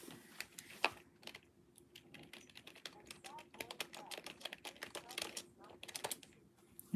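Rapid clicking of keys on a black computer keyboard, close and fairly quiet, in uneven bursts with faint talk murmuring underneath.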